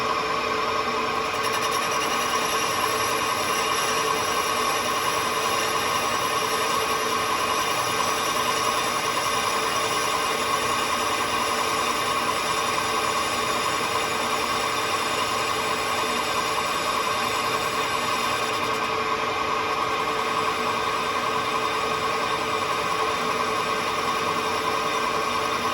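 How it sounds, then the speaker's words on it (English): Metal lathe boring and facing a welded flange for a rotary go-kart, a steady continuous machining hum and whine of the spindle and cut, constant level throughout. "So this is just boring the welded flange and facing it off."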